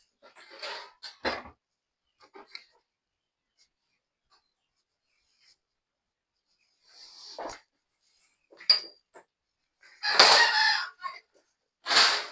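A pet rooster crows in short, scattered bursts against near silence, with louder, longer calls toward the end and small scratchy noises in between.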